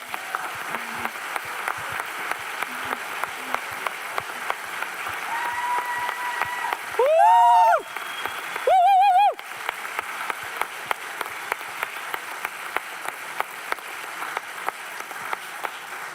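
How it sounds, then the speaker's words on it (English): Steady applause from the audience at a student founding contest final, honouring the technical team. The clapping continues throughout, broken by two brief, loud bursts of tonal cheering or whooping midway. "please give them a huge applause, please"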